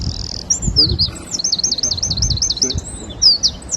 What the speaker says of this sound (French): C'est le petit troglodyte